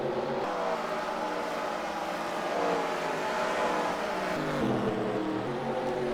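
A stock car race in a racing simulation, with several engines roaring steadily nearby and pitch sweeps as cars pass and shift position, a continuous loud drone with no talk.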